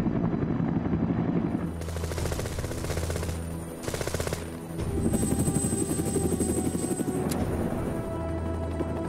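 A Huey military helicopter with a jet turbine engine and 44-foot metal rotor blades, heard loud and close as a continuous rotor thump over turbine whine, with steady chopping rhythm.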